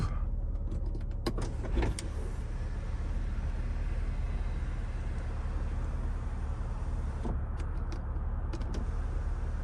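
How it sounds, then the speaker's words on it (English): Electric moonroof of a 1992 Mercedes-Benz 300TE wagon opening, a steady low motor hum inside the car over constant background noise, with a few faint clicks near the start and end. "And now the moonroof."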